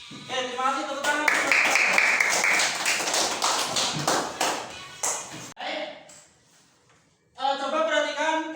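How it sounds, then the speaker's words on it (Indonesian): A classroom of children claps together in a quick, rhythmic burst lasting several seconds, close and lively. A teacher talks before and after, with a short quiet gap in between. "Terima kasih, tepuk tangan."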